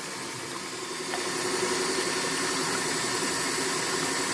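A DO2401 gold concentrator motor running steadily just after power-on, a continuous vibrating hum and hiss that swells slightly about a second in and then holds level, close and fairly quiet.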